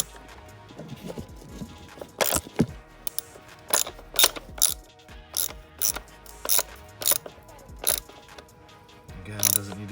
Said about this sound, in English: It's a self-tapping screw going into plastic